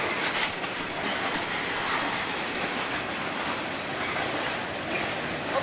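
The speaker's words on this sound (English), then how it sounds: "This is a long train for just having 2 engines on it." A long freight train pulled by two locomotives rolls past at Perryville, Maryland, a steady broadband rumble with faint wheel clatter and light squeal, heard from trackside and continuous throughout.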